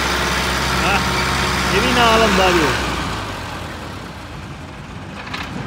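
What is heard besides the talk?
old Fiat 640 tractor engine pulling a loaded trolley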